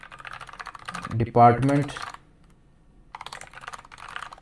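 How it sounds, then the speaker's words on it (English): Fingers type on a computer keyboard, entering SQL commands in quick close clatters before and after someone speaks briefly. "this is a SQL basic SQL commands I'm typing"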